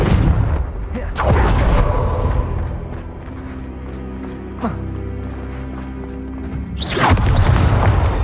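Confringo fire spell cast in Hogwarts Legacy, with loud fiery whooshes and booming blasts recurring several times over a dense, rumbling game soundscape, close and heavy.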